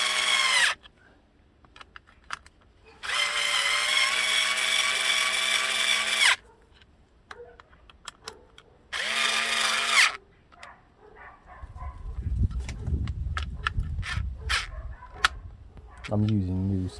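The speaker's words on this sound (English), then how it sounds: "This is a cordless heat gun to help it dry better and to make sure I don't get runs or anything like that." Cordless heat gun drying spray-painted plastic parts from a Honda CRM 250 two-stroke restoration, a loud whirring fan and blower hiss that runs in two bursts with quiet gaps and clicks between, followed by a low rumble and speech.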